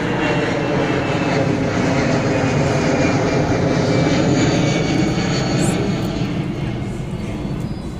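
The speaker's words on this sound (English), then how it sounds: "Another plane!" Airplane passing overhead at Plaza Mayor in Malaga, a steady loud broadband engine roar that fills the whole clip and fades slightly at the end.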